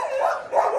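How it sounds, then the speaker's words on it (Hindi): Dogs barking at a rural home, sounding as a steady run of overlapping barks and yaps in the near distance, continuous through the short moment with no talk. "मेरे ते ही भौंकते पे ने"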